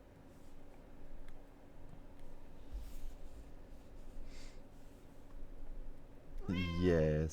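A cat meows loudly and close near the end, a short drawn-out cry rising out of quiet room noise, after several seconds of faint background hum.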